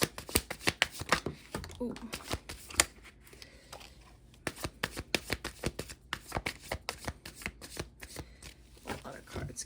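Tarot cards riffled and shuffled in quick, rapid bursts of flapping and snapping, close up and fairly quiet, with a brief exclaiming voice partway through.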